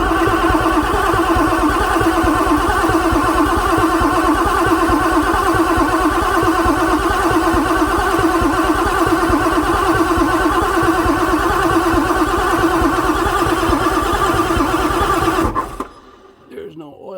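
A 1994 Ford F450 with a 7.3 diesel engine that won't start cranks on the starter, a fast, even rhythmic churning that runs loud and unbroken for about fifteen seconds before cutting off abruptly.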